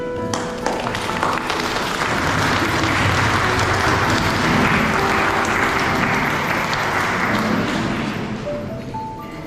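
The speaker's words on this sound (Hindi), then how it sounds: "ताली हम लोग बजा देंगे" Applause at a church wedding fills the space, a dense, sustained clapping from a gathered congregation that swells and holds for several seconds before tapering off, fairly loud and close.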